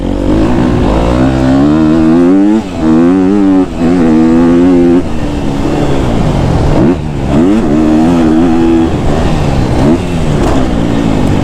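A KTM 250 SXF dirt bike engine revs hard and close, its pitch sweeping up and down through repeated bursts of acceleration, loud and continuous with no talk.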